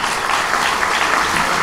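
Audience applause breaks out at a talk event, a brief burst of dense, even clapping from a crowd.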